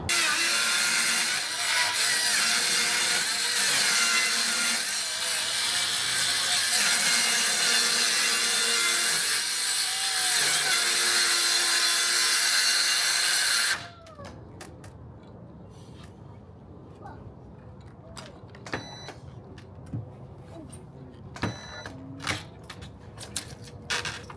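Power saw cutting a two-by-four board for shelving, a loud continuous broadband cutting roar lasting about fourteen seconds, then stopping abruptly, followed by quieter intermittent clicks and handling knocks.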